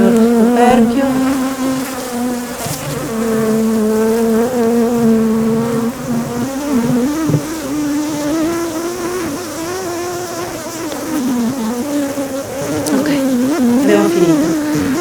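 Honeybees swarm and drone loudly around an opened hive during an early-season inspection, a steady, close, wavering buzz filling the air without a break.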